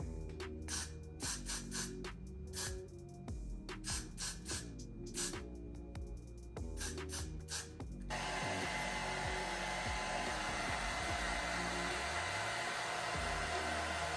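After a stretch of rhythmic music, a hair dryer switches on to dry spray on a wig's lace and blows with a steady, loud rushing hiss until the end.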